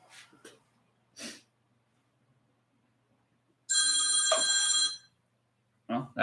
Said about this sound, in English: Well, that was my phone